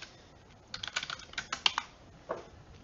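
Quick keystrokes on a computer keyboard as a statistics command is entered, a close, dry flurry of clicks that pauses and then ends with a couple of final taps, with no talking.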